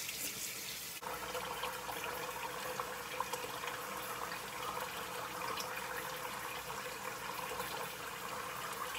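Lukewarm tap water runs steadily from a faucet into a sink while an Aztec clay mask is rinsed off the face, a continuous close splashing rush that starts abruptly and carries on without talk.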